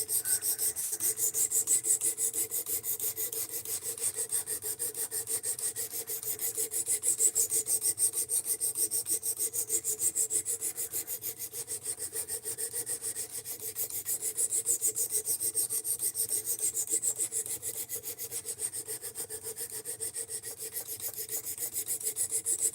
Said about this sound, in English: I hate D2 on a fixed angle sharpener.